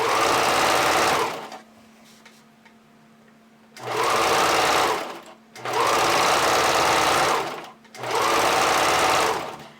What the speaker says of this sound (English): use a zigzag stitch and just zigzag stitch it on.